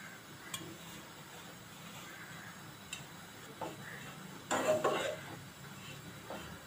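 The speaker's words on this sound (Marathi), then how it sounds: "त्यामध्ये आपण हा सुका खोबरा भाजून घेणार आहोत।" Grated dry coconut dry-roasting in a heated pan on a gas stove, with quiet ticks and scrapes of stirring throughout and a louder scraping burst midway, close and faint.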